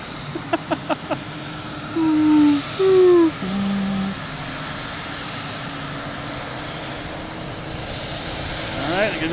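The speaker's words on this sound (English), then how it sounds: "This is Boutique Air coming in." A Boutique Air plane taxis in at Boston Logan, its engine a low, steady hum in the background, while people talk loudly over it and a quick series of short knocks comes early on.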